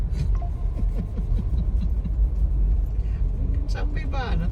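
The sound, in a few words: truck passing on a flooded road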